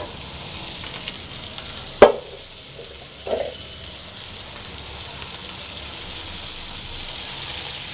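Mudakathan (balloon vine) leaves fry in a pan with a steady, close sizzle throughout, broken by two short clatters of stirring near the start.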